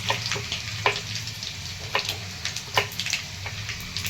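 Brinjal pieces sauté in a pan with garlic and cumin, a steady close frying hiss punctuated by regular spatula scrapes and stirring taps.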